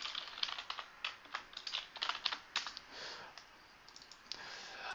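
Rapid bursts of keyboard typing and clicks at a desk computer, quiet and close, with uneven pauses between clusters of keystrokes.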